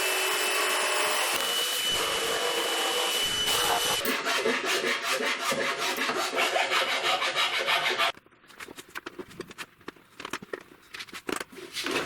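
Wood is cut by hand with a rasping, scraping stroke that repeats in a fast rhythm, loud and close. Partway through the strokes turn sparser and drier, with no talking.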